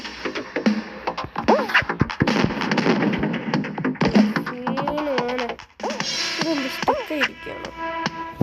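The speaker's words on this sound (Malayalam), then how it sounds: "കണ്ടോ പടക്കം വിടുന്ന കണ്ടോ" Firecrackers bursting outdoors in a rapid, irregular string of sharp cracks and pops, loud and fairly close, with voices and whistling sounds mixed in and a brief lull before the bangs resume.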